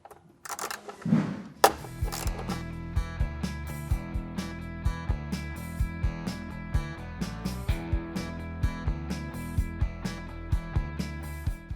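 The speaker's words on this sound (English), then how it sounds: "you'll just need your 10mm socket with a ratchet, so we can undo them like so." A 10mm socket on a ratchet undoes the front bumper bolts of a Toyota Land Cruiser 70 Series, giving a steady run of close, crisp ratchet clicks over a constant tonal background.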